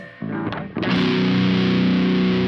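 An Ibanez GIO 7-string electric guitar through a Fishman Fluence pickup on voice 1 plays a couple of short distorted picks, then a loud, sustained high-gain chord that rings out steadily to the end.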